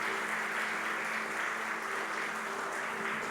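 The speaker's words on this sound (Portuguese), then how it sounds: "Vamos aplaudir o Senhor" Applause from a church congregation during a Sunday morning anniversary service, a steady, dense patter of clapping that fills the whole stretch at moderate loudness with no voices over it.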